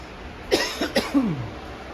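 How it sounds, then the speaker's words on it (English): A few short, rough coughs in quick succession, close by, over a steady background hum. "Getting a little bit of a cough here."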